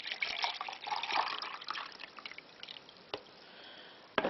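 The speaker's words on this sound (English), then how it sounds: "pour the rest of your milk in." Milk poured into a container for homemade yogurt, a steady close liquid stream lasting a couple of seconds, then tapering to faint drips and a sharp clink.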